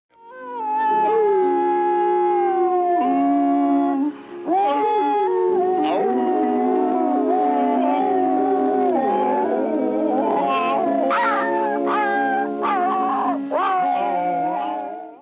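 A voice imitates a dog, letting out long, wavering howls and whines that rise and fall, continuous and close.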